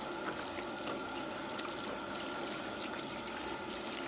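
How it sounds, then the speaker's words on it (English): Water runs steadily into a cabin sink while clothes are washed by hand, a constant close hiss and trickle with small splashes and no talk. "Washing clothes in the sink of the cabin."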